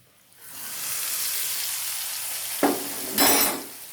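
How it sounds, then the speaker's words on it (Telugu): Hot tempering poured into coconut curd chutney sets off a steady, loud sizzle and hiss that runs throughout, with two sharper bursts near the end as more of the hot oil hits. "ఇప్పుడు ఈ పోపు ఇందులో వేసేసుకుందాం"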